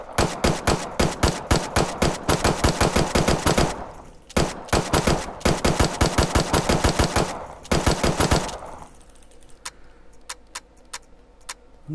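A video game minigun fires unsuppressed in long, rapid-fire bursts, loud and close, with a short gap midway. It stops near the end, leaving faint clicks and a low hum.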